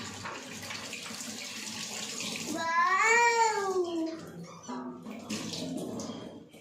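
Tap water runs steadily while meat is being washed. A cat meows loudly midway, and faint voices are heard in the background.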